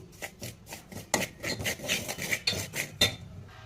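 Spices being dry-roasted in a pan over low heat, stirred with a utensil: steady scraping and rasping strokes against metal, a brisk repeated rhythm of close, moderately loud scrapes with occasional sharper clinks.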